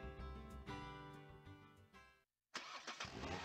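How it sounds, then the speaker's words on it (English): A car engine cranks and catches to life, then cuts to silence briefly before a second start bursts in, loud and close with no talk. "This is the sound of a car engine."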